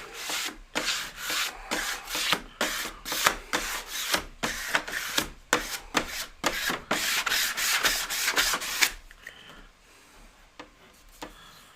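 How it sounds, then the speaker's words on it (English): A squeegee dragged across a surface in a quick run of repeated strokes, each a short rough rubbing swipe with brief gaps, close and fairly loud, before the sound fades to a quiet tail; no voices. "Squeegee, squeegee, squeegee"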